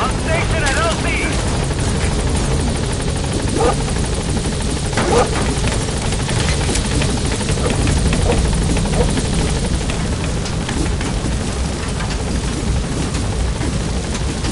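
The Pequod helicopter in Metal Gear Solid V arrives at a landing zone, a loud, continuous rotor roar and whine that fills the whole stretch, with radio chatter spoken over it.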